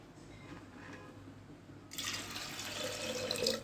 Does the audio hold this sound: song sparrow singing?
no